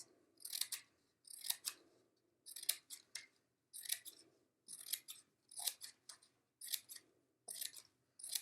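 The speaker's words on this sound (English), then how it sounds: "make sure you have your scissors just go to about there. And we're going to cut all the way down to the other side" Scissors snip through paper in a steady series of crisp cuts, about a dozen short slicing strokes with brief pauses between, close and quiet, with no voices.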